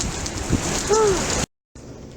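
Heavy rain falls at midnight as a 2016 blizzard turns to water. It makes a steady, dense hiss with a brief tonal whine in the middle, then cuts out abruptly and comes back much quieter.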